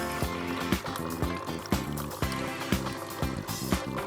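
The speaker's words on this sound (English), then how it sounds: "Wait until the water stops." Dolce Gusto Lumio coffee machine running water during descaling, a steady liquid flow with regular rhythmic pump pulses about every half second, fairly close and alone.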